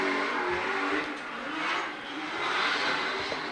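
Nissan Laurel C33 drift car on track during D1NZ pro-sport qualifying at Tauranga, its engine revving and droning at a distance with rising and falling pitch, fairly muffled and continuous.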